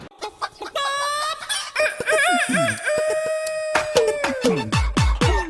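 A chicken clucks and crows loudly through a song, a rooster call rising and falling over repeated clucks and a musical backing, close and continuous with no talking.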